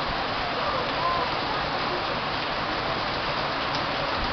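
Steady monsoon rain pours onto a flooded road in Marikina, a dense continuous hiss that stays level and close throughout, with no distinct drops or voices standing out.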